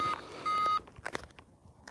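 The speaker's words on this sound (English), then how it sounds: "Let me turn this beeper off." Electronic beeper on RC flying gear sounds a steady high tone twice in quick succession, close and clear, then stops and leaves only faint handling clicks and rustles.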